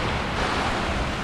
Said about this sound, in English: You're not sure about them waves coming in at her.